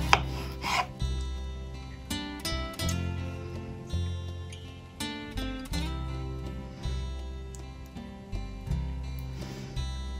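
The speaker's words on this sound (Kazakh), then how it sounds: "Қиярды өте жұп-жұқа етіп тураймыз." A knife slicing cucumber very thinly on a board for a salad, giving a rapid, regular run of crisp chopping strokes up close with no talk.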